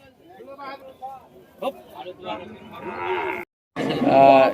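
Cattle low loudly at a busy bull market in Rajshahi, with a long, strong moo rising near the end, close by, and people talking underneath.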